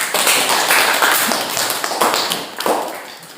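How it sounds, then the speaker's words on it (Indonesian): Students in a classroom guidance lesson clapping together, a loud, close burst of many hands with quick uneven slaps that fades slightly toward the end, no talking. "Tepuk tangan."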